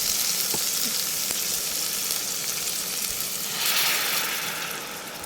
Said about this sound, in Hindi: इसको अच्छी तरह चलाएंगे। 2 मिनट के लिए हम इसको गैस पर इसी तरह से पकने देंगे।